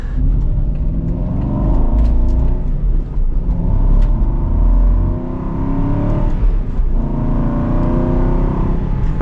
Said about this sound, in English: It's got a good valve train sound out of the engine.